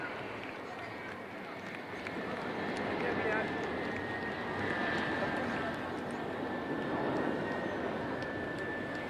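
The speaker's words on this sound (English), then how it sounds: "அடுத்த வரிசையில் IL-78 MKI மற்றும் இரண்டு மிராஜ் 2000 ஆகியவை உள்ளன" Indian Air Force IL-78 MKI tanker and Mirage 2000 jets pass over the air show at Marina Beach, Chennai, as a steady, fairly distant broadband roar that swells slightly midway beneath crowd noise and voices.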